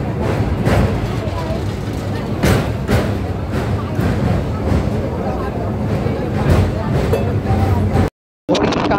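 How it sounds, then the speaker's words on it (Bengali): A Santragachi–Mecheda local train runs into Mecheda station near Kolaghat, a loud continuous rumble with rhythmic thumps from the wheels and a brief dropout near the end, while people talk over the noise. "আর এই মুহূর্তে আমাদের সাঁতরাগাছি মেছেদা লোকাল কিন্তু মেছেদা ঢুকছে"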